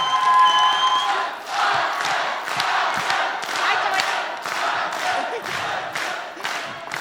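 A crowd at a graduates' evening concert claps in a steady unison rhythm, beat after beat, while cheers and shouts rise over the clapping.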